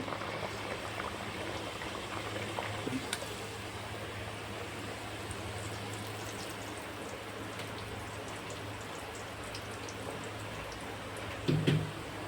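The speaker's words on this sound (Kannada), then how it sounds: "ಆಯಿಲ್ ಬಿಸಿ ಆಯಿತು ಈಗ ಒಂದೊಂದು ಆ ಥರ ಆಯಿಲಲ್ಲಿ ಹಾಕೋಬೇಕು ಹಾಕ್ಕೊಂಡು ಇದು ಬ್ರೌನ್ ಕಲರ್ ಬರೋಷ್ಟು ತನಕ ಫ್ರೈ ಮಾಡ್ಕೋಬೇಕು" Nippattu dough pieces deep-fry in hot oil over a medium flame, a steady dense bubbling crackle with a few sharper sputters, close and continuous, and nobody speaking.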